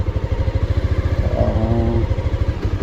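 A Bajaj Pulsar 220 motorcycle rides slowly through mud, its engine chugging in a steady, close pulsing rhythm at low revs, with a faint rising whine partway through.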